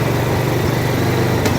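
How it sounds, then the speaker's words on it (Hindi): A Benelli TNT25 motorcycle engine runs at a steady idle just after starting, a loud, continuous close-up drone with an even rumble and no voices. "तो मोटरसाइकिल स्टार्ट हो गया"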